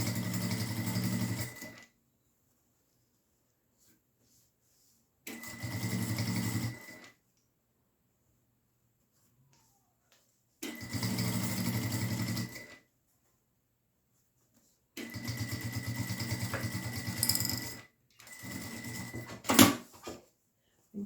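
A sewing machine stitching fabric for a triple pencil case, running in four short bursts of steady mechanical whirring separated by silent pauses, fairly quiet and close, with no talking.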